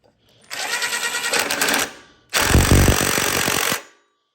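An impact wrench drives a 13 mm bolt while setting up a CVT clutch on a 30 Series Comet, giving two loud rattling bursts of hammering, the first near 1.5 seconds long and the second about 1.5 seconds, close by with no talk.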